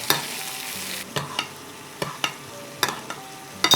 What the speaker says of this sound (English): And now we're gonna butter baste.